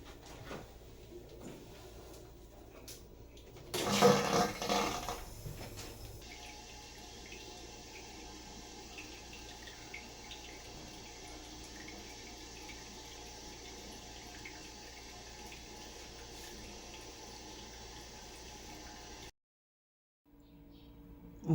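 A toilet tank refills at home after a new flush valve kit is installed: a brief louder rush of water, then a long steady hiss of inflow that runs until it cuts off near the end.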